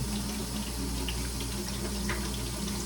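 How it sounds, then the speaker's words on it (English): Cold water poured steadily over the top of a hot dish in a kitchen, a continuous close splashing and running-water wash with no break and no voices. "I'm pouring some really cold water over the top so it cools it down a little bit"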